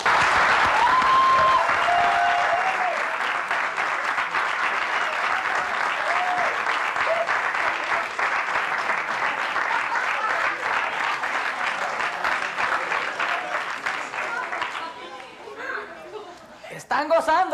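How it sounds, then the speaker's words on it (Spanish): Sustained audience applause for a comedian at a Cuban stand-up show, a dense, loud wash of clapping that fills the whole stretch with some crowd chatter mixed in, tapering slightly near the end. "Quiero que reciban con un fuerte aplauso y muchas carcajadas"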